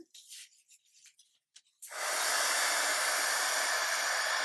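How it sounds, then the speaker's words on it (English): A heat gun shaping a shrink plastic flower pendant starts up after a few soft handling taps, then blows a loud, steady, close airy roar held at even strength. "take my heat gun,"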